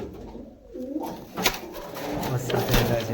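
Pigeons give soft, low coos against faint background noise and scattered knocks, quiet and close by.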